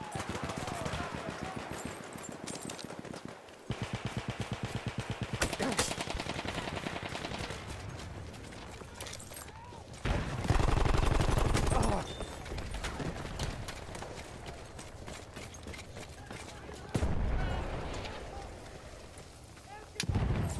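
Enemy machine gun fire in Battlefield 1 rattles in rapid, sustained bursts, some close and loud, others more distant, amid heavy battlefield noise and louder booming blasts.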